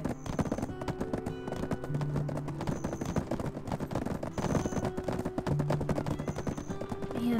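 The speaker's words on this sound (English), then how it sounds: "Man, the horses are so fast!" Horses gallop in the online role-playing game Black Desert Online, a rapid continuous clatter of hooves under game music and effects, with no talking.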